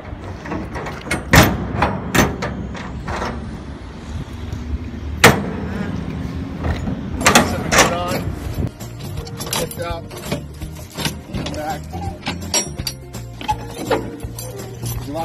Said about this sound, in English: The right hand door closes in the left hand rod.